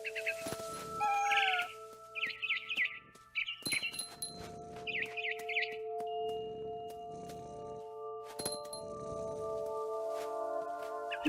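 A frightened barn swallow in the video game What Remains of Edith Finch chirps in several short, agitated bursts of high twittering, spaced apart over steady musical drones and occasional bell-like clangs.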